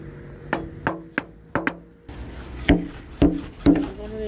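A sledgehammer strikes a frozen metal well cover about seven times at an uneven pace, each blow sharp and ringing, close by with no talking.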